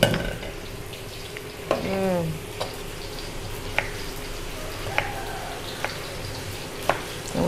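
Fish frying in hot oil alongside vegetables such as eggplant, tofu and long beans, with a soft continuous sizzle and occasional sharp clinks of a utensil stirring the pan in a home kitchen, fairly quiet.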